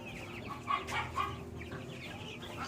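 Free-range blackstar and white leghorn chickens in Cebu give a few soft clucks and short calls against a quiet rural backdrop, fairly close but not loud.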